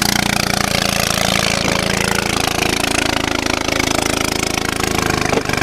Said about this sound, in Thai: เสียงเรือเนาะ